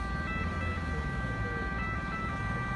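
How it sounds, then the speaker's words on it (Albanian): An ambulance siren wailing as police clear the road, steady tonal wailing heard at moderate distance over a constant rumble of road traffic. "tani po e hapë rrugën polici edhe për ambulancë"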